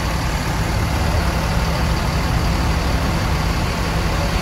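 A Rosalia Indah bus engine running at idle, a steady low diesel hum and broadband rumble, constant and close, with no voices heard.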